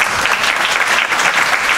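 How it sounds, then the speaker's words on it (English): Steady applause from a crowd at a judge's retirement event, dense clapping sustained at an even level throughout, fairly loud with no talking. "Round of applause to her."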